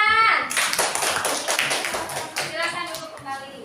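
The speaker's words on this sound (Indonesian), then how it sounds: "terima kasih, tepuk tangan." A classroom of pupils claps hands together after a group task in an Indonesian school lesson, a burst of quick overlapping claps following a teacher's voice, with a few children's voices mixed in.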